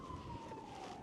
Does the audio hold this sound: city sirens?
yes